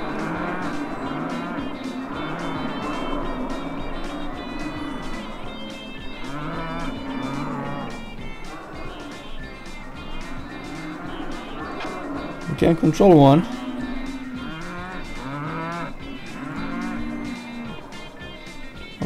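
Cows mooing in the battle game Cow Thunder Simulator, repeated drawn-out lowing calls layered over engine-like rumble and a brief loud burst midway, with a person talking over the game sounds.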